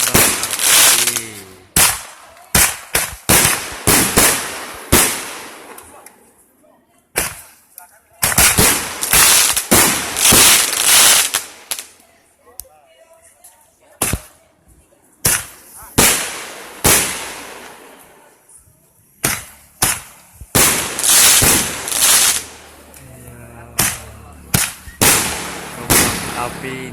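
Fireworks burst in a night celebration at Mount Agung, a long run of sharp, loud cracks and booms coming in irregular clusters with brief pauses, some crackling tails between blasts and no speech.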